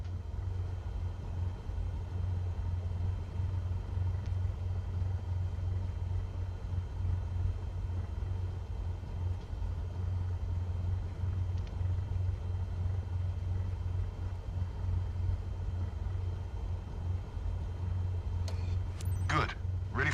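A Cessna Skyhawk engine in the Microsoft Flight Simulator video game runs at full power, a steady loud low drone that holds throughout, with a few faint clicks near the end.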